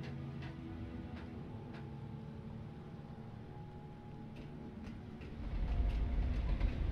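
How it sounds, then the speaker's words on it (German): Train approaching in the Alan Wake video game, a steady rumbling rail noise with faint ticking clicks that swells louder toward the end as it draws near. "da kommt der Zug"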